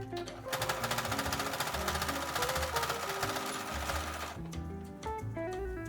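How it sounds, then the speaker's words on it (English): A sewing machine runs steadily, stitching fabric layers of a reversible insulated bowl cozy, a dense mechanical chatter that holds for about four seconds before easing into slower, quieter stitching. "My stitching will start probably here, and then I'll just stitch closer in so I'm sure to catch all the fabric on the other side."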